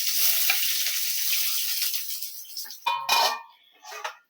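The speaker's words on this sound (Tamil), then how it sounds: "இப்போ வெங்காயம் போட்டு நல்லா வதக்கிக்கலாம்." Steady crackling sizzle of onions frying in hot oil with fennel seeds for a vada curry, with a few stirring scrapes near the end.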